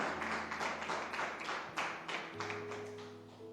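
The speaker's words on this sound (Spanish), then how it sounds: "¿Puede dar otro aplauso al Señor en esta noche y bendecirlo?" Church congregation clapping together during an evening Spanish-language sermon service, a steady run of dense hand claps throughout with a low sustained organ or keyboard tone underneath.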